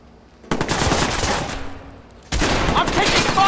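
Heavy sustained automatic gunfire in a Watch Dogs police shootout, loud and continuous rattling volleys that pause briefly and resume even stronger, with shouted voices mixed in.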